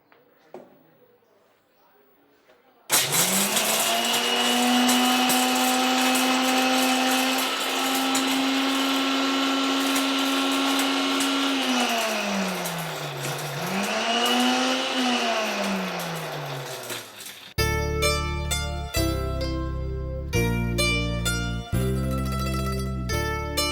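Mixer grinder powdering roasted gram and cashew nuts, a loud steady electric whine that starts abruptly, holds for about fifteen seconds with pitch dips as the load shifts, then stops; music follows.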